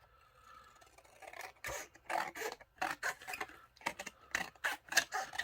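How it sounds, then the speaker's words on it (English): Scissors snipping roughly through a journal cover, a series of close, crisp cuts in uneven rhythm after a quiet start, with no voices. "And I'll just do a wee rough cutting here."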